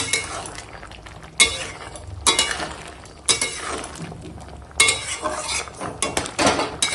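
Potol and shrimp curry with garam masala being stirred in a pan, heard as close, irregular scraping and clinking bursts of a utensil against metal with brief pauses between strokes.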